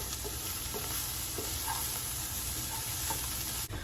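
Bacon fried cauliflower rice is stirred in a hot pan, a continuous soft sizzle and fry with light scraping stirs over it, close and steady with no talk.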